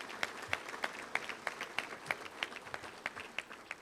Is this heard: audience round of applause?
yes